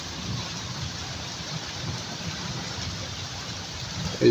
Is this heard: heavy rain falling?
yes